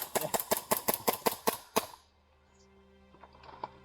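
Airsoft guns fire BBs at a milsim event, a fast, even string of about ten sharp close cracks followed by quieter scattered pops.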